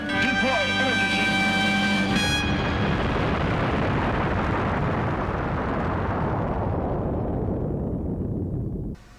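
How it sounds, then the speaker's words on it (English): A huge sci-fi explosion from a Doctor Who audio drama, set in a space battle with Cybermen, booms loud over a ringing musical tone and then rumbles and decays steadily for several seconds before cutting off. "I saw them just long enough to see them get blown up."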